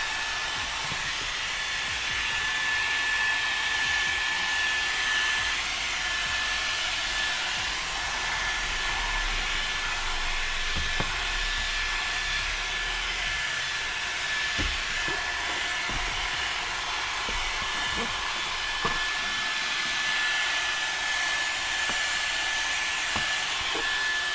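A Levoit LVAC 200 stick vacuum running on turbo mode with a smaller brush over carpet makes a steady, loud whine with a constant hum, broken by occasional small clicks and knocks, with no talking.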